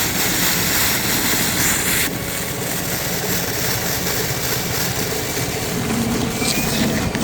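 An EGO 56V cordless wet dry vac with a 9-gallon tank runs its motor on high, a loud steady whine and roar that holds without a break, shifting slightly in tone partway through.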